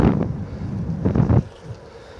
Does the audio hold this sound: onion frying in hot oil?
no